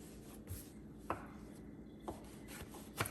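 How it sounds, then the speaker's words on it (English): Sourdough discard dough is cut in half on a board, producing four quiet, sharp knocks spaced about a second apart over a faint background hush. "And then I'm going to divide the dough in half after that."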